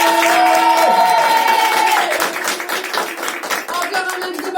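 Audience clapping and cheering at a comedy night at Black Cat in Bordeaux, a loud dense burst that slowly thins out, with a sustained tone sounding over the start.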